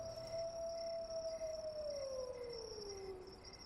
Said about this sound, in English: Did I just hear a wolf howl?